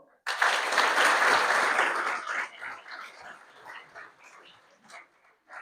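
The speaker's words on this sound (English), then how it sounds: "Let's clap it up for Roman." An audience at a high school signing day for a track athlete breaks into loud clapping that holds for about two seconds, then thins out into scattered claps and fades away.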